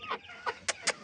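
A calm decorative hen gives four short, close clucks in a quick uneven rhythm, alone without talk.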